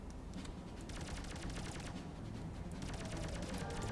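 Gunfire in the video game Rodina, sustained rapid automatic bursts in steady runs, loud and dense over a constant low rumble, with no talking.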